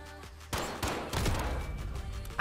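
Gunshots from a .50 GS pistol ring out in a headshots-only one-versus-one free-for-all video game match, several sharp loud bursts spaced irregularly over a couple of seconds.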